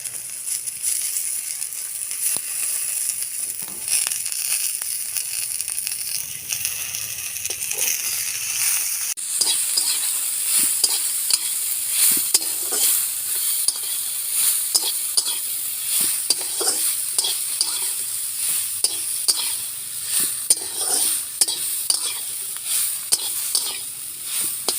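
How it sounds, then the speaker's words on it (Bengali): Greens with potatoes and stalks fry in a pan, a continuous bright sizzle broken by frequent scraping stirs of a utensil throughout. "এবারে আমি এই ডিমের শাক দিয়ে ভালো করে আরও ভেজে নেব"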